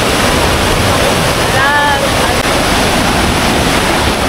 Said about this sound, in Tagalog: Ito yung akyatan papunta doon sa isang fall. Ang lakas ng tubig.